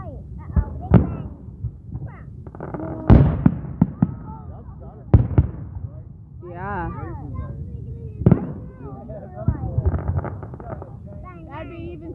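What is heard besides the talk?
fireworks show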